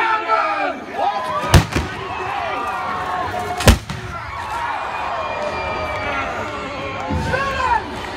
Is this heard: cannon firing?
yes